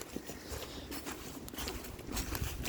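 Rain patters steadily and softly, a dense hiss of small drops with occasional sharper taps close by.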